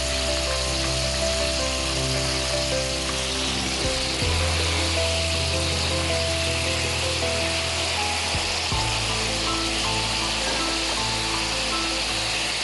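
Batter fritters frying in hot oil, a steady dense sizzle and crackle that fills the clip, close and continuous with a low hum underneath.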